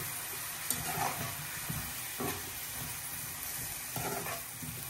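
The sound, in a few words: sautéing spice paste with chopped tomatoes in a pan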